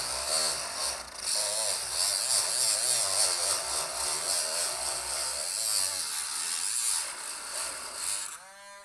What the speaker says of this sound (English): here's where the Dremel tool comes in. You can cut this just like this.